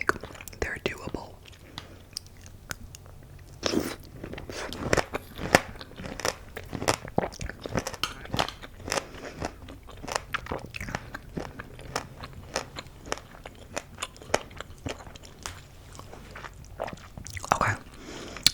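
Crunchy pomegranate seeds are chewed close to the mic in an ASMR eating session. Sharp, repeated bites and crunches come steadily for about eighteen seconds, with soft whispering at times.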